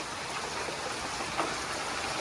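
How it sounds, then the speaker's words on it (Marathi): Heavy rain falls steadily outdoors at a village home, a dense continuous hiss with no pauses and no voices, loud and close throughout. "पाऊस बघा एवढा जोरात आला"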